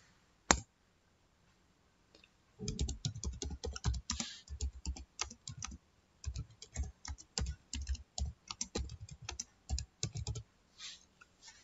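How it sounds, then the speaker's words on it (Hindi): A computer keyboard clicks in quick, irregular bursts as a letter is typed, close and clear, with a single sharp tap at the start and short pauses between runs of keystrokes. "ये देखिए इस तरीके से हम सबसे पहले एक लेटर टाइप करेंगे"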